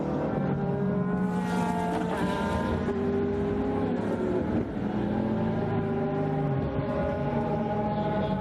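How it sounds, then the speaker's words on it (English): GT race car engine at full race pace on the final lap at the Hungaroring, a loud, continuous roar with shifting harmonic pitch, no talk over it. "As we take the last lap with Yanis, this car really so well suited to the Hungarian track"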